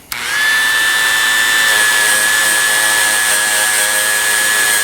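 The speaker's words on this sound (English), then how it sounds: "You're just buffing. You're polishing." A buffing wheel spins steadily against a Smith & Wesson M&P trigger part dressed with green polishing compound, giving a loud, sustained motor whine with a constant high tone that holds for the full stretch.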